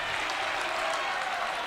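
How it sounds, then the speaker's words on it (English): Light, polite golf-clap applause from a volleyball crowd at a girls' high school section final, a steady soft patter of scattered hands with no standout cheers. "A lot of golf claps tonight."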